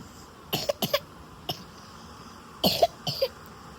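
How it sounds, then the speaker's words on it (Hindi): A child sick with a cold and fever coughs in several close, harsh bursts, first a quick cluster of three, then a single cough, then two more pairs, moderately loud against a quiet room. "खांसी से परेशान हो गया बच्चा उसका"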